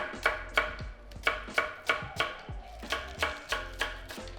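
Knife slicing potatoes on an angle on a board for barbecue potato salad, a steady run of about a dozen crisp, close cuts with sharp board taps, no talk.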